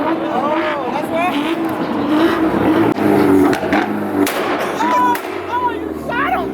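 Import cars at a two-step exhaust contest in Dallas fire loud popping, crackling exhaust bursts and revving under excited crowd shouting and nearby voices.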